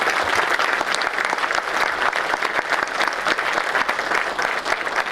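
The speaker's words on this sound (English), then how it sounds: "उनके जोर से तालियां बजा दो भाई" An audience applauds at an NDRF workshop on CBRN preparedness and response in Mumbai: a dense, sustained wash of many hands clapping at steady volume, with no voices rising above it.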